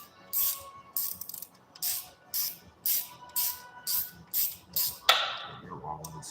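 A ratchet socket wrench turns a Torx fastener during a valve adjustment, giving about eight evenly spaced bursts of sharp pawl clicking, then a louder metallic clunk, all close by.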